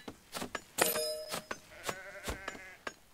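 Sheep in the video game Empires Apart give several short bleats in quick, uneven succession, with one longer, louder bleat near the start, sounding close over a faint background.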